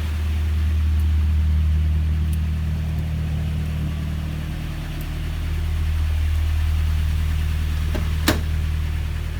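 A car engine idles steadily with a low, rumbling hum throughout, close by, with a brief faint click near the end.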